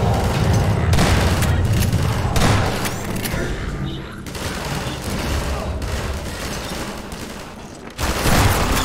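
Gunfire in the video game Half-Life 2, loud rapid bursts of shots and heavy booms in dense clusters with brief lulls, while a player talks over the action.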